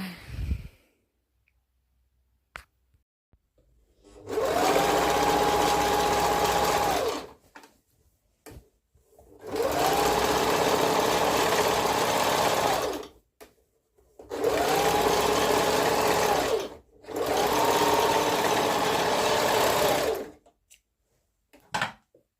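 An electric sewing machine stitching wide-legged, high-waisted trousers, running in four steady bursts of a few seconds each with a whirring hum, separated by short pauses with small clicks and fabric handling, close by and without speech.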